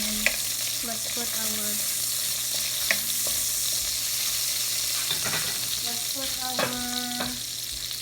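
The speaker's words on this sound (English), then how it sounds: "So we're gonna put some, again, garlic and shallot at the same time" Garlic and shallot fry in a pan, hissing steadily with scattered stirring clinks and scrapes.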